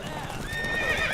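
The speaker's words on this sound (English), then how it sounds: "Move it, horse!" A horse in The Witcher 3 gallops with brisk clip-clop hoofbeats, and a short, high whinny rises over them. The burst is close and brief.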